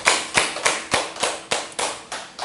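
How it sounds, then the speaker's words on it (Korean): During a Sunday church service, a congregation claps in celebration, striking together in a brisk, even rhythm of crisp, loud beats, about eight in quick succession, close by. "우리 축하의 박수 올려드리겠습니다"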